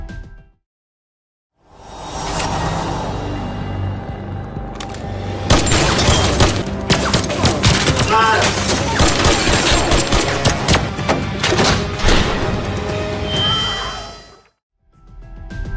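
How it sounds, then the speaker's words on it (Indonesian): Sustained gunfire exchange in a drama action scene, dense rapid bursts of shots with booms and shattering, loud and continuous for over ten seconds, no talk. "Aksi saling tembak pun tak terelakkan"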